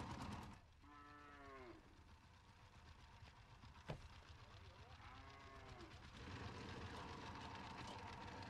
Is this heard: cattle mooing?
yes